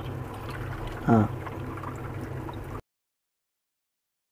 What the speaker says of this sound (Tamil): ஒரு கிளாஸ் தான் தண்ணி ஊற்றினேன்